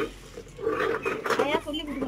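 Metal cooking pots with fitted lids are handled, giving a few clanks and scrapes of lids and vessels under a person talking nearby.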